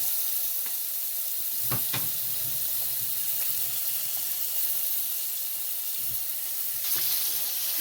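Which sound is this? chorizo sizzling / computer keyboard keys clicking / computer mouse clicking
chorizo sizzling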